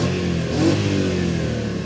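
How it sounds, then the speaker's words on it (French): Intake roar of a BMW E34 540i with 345,000 km as the engine revs. It is loud and close, a sustained harmonic rumble that swells briefly and then holds steady. "Le son de l'induction."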